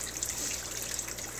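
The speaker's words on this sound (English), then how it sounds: "It overflows out of the 5-gallon bucket" Water overflowing from a 5-gallon bucket filled with lava rock filter media into another container, a continuous close trickling and gushing stream heard alone.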